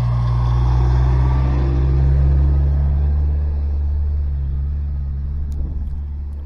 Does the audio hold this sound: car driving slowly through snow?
yes